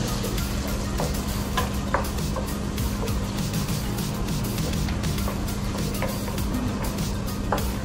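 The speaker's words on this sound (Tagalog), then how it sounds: "Haluin lang po natin." Buttered sweet corn being stirred in a pan, a continuous soft sizzle under repeated scraping and clicking of a spoon against the pan, with a low steady hum underneath and no talking.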